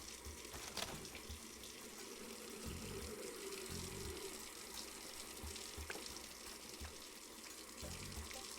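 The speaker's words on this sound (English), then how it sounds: "Sounds like the water's overflowing." Water runs and overflows in the brewing simulator game Brewmaster, a steady gushing tap-like stream under occasional faint background voice, with a few brief clunks along the way.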